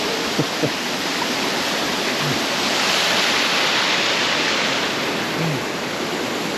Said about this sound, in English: There's a lot of water rolling down here.